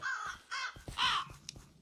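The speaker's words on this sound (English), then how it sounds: "Hello, crows." Crows caw in a few harsh, rasping calls in quick succession, fairly close and moderately loud, with no voices.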